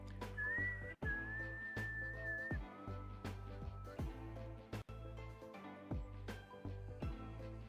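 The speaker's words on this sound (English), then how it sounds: "Sorry for whistling in your guys' ears." A person whistles a short tune near the microphone, one sustained wavering line that breaks off after a few seconds, over steady background game music.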